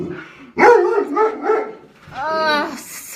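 A dog barks indoors in a quick string of close, loud barks, then lets out a drawn-out whining yip, with no talk over it.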